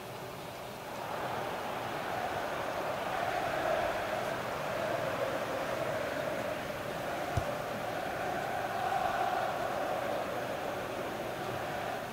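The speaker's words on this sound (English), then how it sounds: "If you can hear the vacuum just outside my room" A vacuum cleaner runs steadily just outside a room, a continuous muffled whooshing roar at moderate level throughout, with a brief click partway through.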